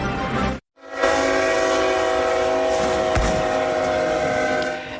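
A train near Mission sounds a long, loud sustained horn blast close by as it passes, with rail rumble underneath after a brief silent gap at the start.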